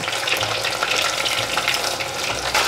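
Pieces coated in sweet potato starch sizzling loudly in hot oil as they are tossed in the pan, a dense continuous crackle with faint scraping of the turner, no voices.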